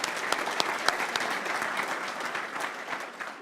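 Audience applause for New Zealand's Labour housing minister at a property event, a steady dense clapping that runs for the whole stretch with a few sharper claps poking out.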